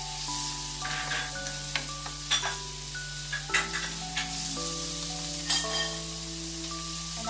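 Onion and tomato sautéing in a pan for a pork spare ribs stir fry, a steady soft sizzle with light clinks and scraping of a utensil over a background of sustained musical tones.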